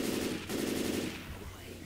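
Rapid automatic gunfire in Left 4 Dead 2 comes as a close, steady volley of shots that eases off toward the end, with game ambience underneath.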